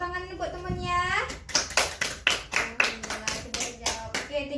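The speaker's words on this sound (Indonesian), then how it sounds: "Tepuk tangan buat temannya." A classroom of young children claps for a classmate during a religious studies lesson, a burst of quick, loud, ragged claps that follows a voice and carries on for several seconds.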